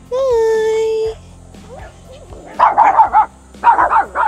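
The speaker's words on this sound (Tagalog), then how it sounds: "Natahol na" Puppies bark in a rapid series of high, yappy barks in the second half, close by, after a person's drawn-out call at the start.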